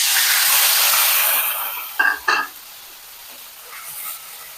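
Garlic, green chili and onion paste drops into hot oil and gives a strong hiss that fades over about two seconds. Two short, sharp clatters from the pan or spoon follow, then a quieter settling sizzle.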